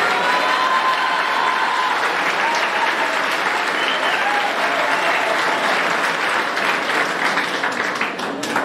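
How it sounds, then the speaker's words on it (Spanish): Steady, dense applause from a graduation ceremony audience at the Centro Johann Kepler in Chía, filling the hall evenly for its whole length without any speech. "Para ellos, un fuerte aplauso."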